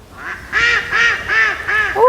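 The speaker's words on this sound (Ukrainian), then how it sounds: "О, ще й утка десь кряка." A duck quacks four times in a steady rhythm, fairly close and clear, followed by a higher call at the end.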